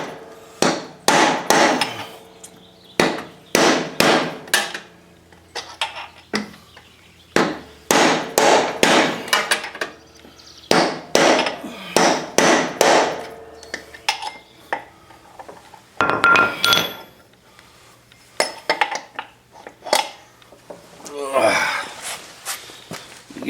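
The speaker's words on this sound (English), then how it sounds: "Get the right size socket to fit down in there so I can whack it right." Repeated hard metal whacks of a hammer on a socket driving a bearing out of a Cub Cadet LTX 1050 mower deck spindle, loud sharp strikes in quick bursts with pauses and faint clinks between.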